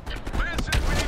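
Gunfire in the video game Call of Duty Black Ops Cold War, a few sharp shots and bursts scattered through a busy mix of battle noise, fairly close and loud.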